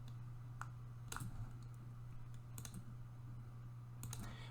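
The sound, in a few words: computer mouse clicking to save a file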